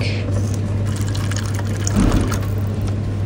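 Water is poured into a cup outdoors, a steady close splashing trickle that swells briefly midway over a low constant hum, with no speech.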